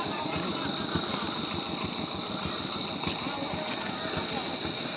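A big village boat's engine runs close by with a constant, throbbing mechanical drone and rapid pulsing chug that holds steady throughout.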